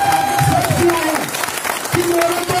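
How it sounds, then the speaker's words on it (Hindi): An audience claps loudly at a sales training session, a continuous wash of applause under a voice that speaks over it throughout. "एक बार जोरदार ताली बजाना चाहिए"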